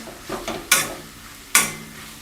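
Goat blood is stirred in a pan, heard as a few soft clicks and scrapes followed by two sharp, bright metallic scrapes of a spatula against the pan. There is no voice.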